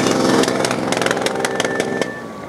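A motorcycle engine fires up at an outdoor season-opening motorcycle event in Bemowo, Warsaw, 2012: loud, rough, popping bursts and revs over a crowded background, easing off toward the end.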